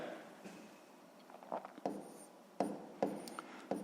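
Pen or pencil strokes writing numbers by hand on paper during a sixth-grade maths exercise, heard as light scratchy scribbles and taps that come in short bursts, close and faint with no talking.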